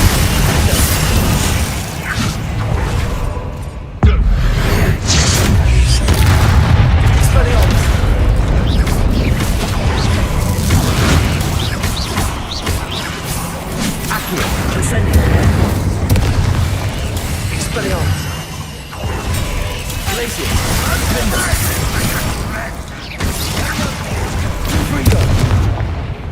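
Bombarda blasting-spell explosions in the Hogwarts Legacy video game, repeated booming blasts and rumbling debris in a dense, loud, continuous battle mix with voices shouting over it.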